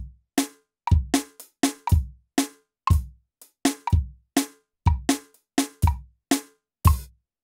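Close, crisp drum kit beat in a traditional soca pattern, with the snare note on the 'e' of beat 3; kick and snare hits spaced with short gaps, repeating steadily without any talking.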